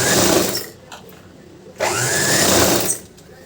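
A sewing machine runs in two loud close bursts while stitching the piping joint on a blouse, with a short pause between them.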